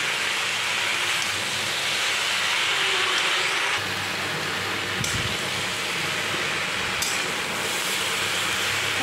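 Chopped pumpkin leaves fry with shrimp in a hot pan, giving a loud, steady broadband sizzle that hisses continuously throughout with a few brief stirring knocks.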